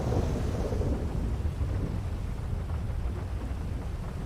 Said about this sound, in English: Just the thunder, right?